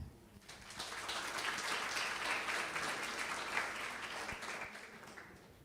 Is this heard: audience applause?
yes